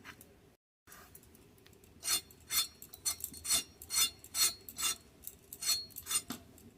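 Pointed gourd (potol) being peeled with a blade, a steady run of about a dozen short rasping scrapes in an even rhythm, close and fairly quiet, with no talking.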